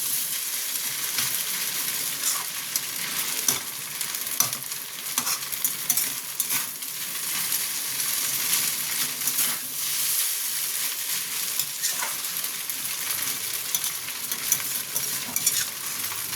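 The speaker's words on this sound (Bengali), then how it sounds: "এইভাবে একবার ভালো মতন ভাজবেন।" Veg chowmein stirred and frying in a pan, a steady hissing sizzle with scraping stir strokes and occasional clatter, close and continuous, with no voices.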